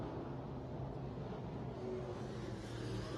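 IMCA stock cars racing in a feature event at Beatrice Speedway, a faint, steady distant engine drone with no distinct passes standing out.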